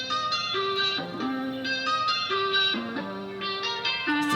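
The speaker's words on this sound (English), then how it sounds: "I took that same guitar sample and then I just made it higher." A guitar sample pitched up higher plays in a music production session, repeating a melodic phrase in a steady looping pattern over a dense, sustained backing layer, with no one talking.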